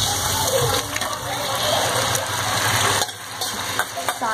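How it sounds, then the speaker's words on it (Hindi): Boiled rajma and urad dal tipped into hot fried masala in a pan, giving a loud close sizzle and gushing hiss that holds steady, then eases slightly near the end. "मैं इसमें डालने वाली हूँ जो राजमा और उड़द मैंने भिगो के रखे थे"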